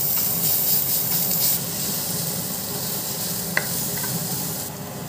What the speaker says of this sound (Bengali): আমি আদা বাটা আর রসুনটা আর পেঁয়াজ বাটা আর আদা বাটাটা দিয়ে আমি ওই সবজিগুলোর সঙ্গে একটু ভালো করে ভেজে নেব।